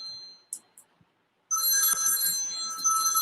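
A telephone rings: after a few faint clicks and a brief hush, a loud, steady electronic bell-like trill starts and continues without a break to the end.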